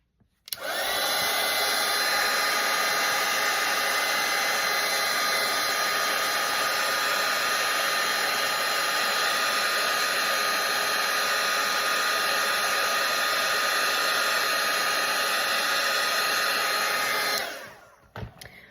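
A hair dryer blows steadily and loudly for about seventeen seconds while drying a watercolor painting, switching on at the start and winding down near the end.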